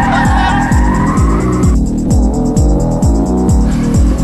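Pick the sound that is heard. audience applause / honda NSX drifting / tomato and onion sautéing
honda NSX drifting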